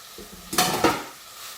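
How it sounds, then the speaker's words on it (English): Drained and rinsed red kidney beans are tipped and stirred into a pan of sautéing spiced vegetables. A brief wet scrape and clatter swells into a soft sizzle, close by, with no talking. "into that we'll add our drain and rinse red kidney beans"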